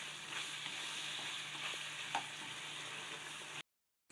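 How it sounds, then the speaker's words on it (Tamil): Soya chunk gravy with curry leaves and coriander bubbles in a pan, giving a soft, even hiss with a few faint stirring knocks, then the sound cuts off abruptly. "இப்போ நல்லா கொதிச்சிருச்சு."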